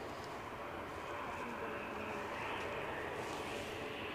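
An EasyJet airliner inbound from Geneva to Edinburgh, a faint, steady jet roar holding evenly across the whole short stretch with no voices.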